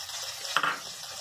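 A small chopped onion drops into a pan for frying, making one short burst of crackle and sizzle over a faint, quiet kitchen background; no voices are heard.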